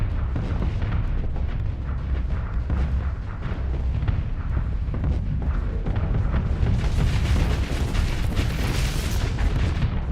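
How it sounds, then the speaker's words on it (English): Starsector ship weapons firing steadily amid booming explosions, a dense, continuous barrage of deep impacts and bursts that grows louder and brighter toward the end. "He's shooting at me!"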